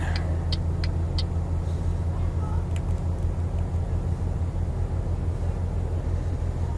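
A Volvo FH truck hauling 40 tons in Euro Truck Simulator 2 drones with a steady, heavy low engine rumble throughout, with a few faint clicks over it.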